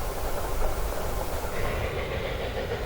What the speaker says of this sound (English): This train, which ran daily at the event, was appropriately known as the Mountain Wanderer.